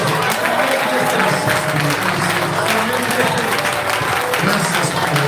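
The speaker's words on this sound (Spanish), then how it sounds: "Dale gracias, un aplauso en esta noche." A church congregation applauds during an evening worship service, a dense, steady wash of clapping mixed with crowd voices that stays loud and continuous throughout.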